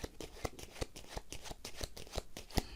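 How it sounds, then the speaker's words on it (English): Playing cards are counted out from a deck one at a time during a card trick, soft crisp flicks and snaps in a quick, fairly even rhythm, close and quiet, with no talking. "now remember I got to count 9 cards"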